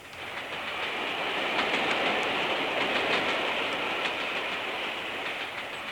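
Train wheels clicking over rail joints in a 1958 radio comedy sound effect, a steady hissing roar with faint regular clicks throughout, even and continuous, no voices.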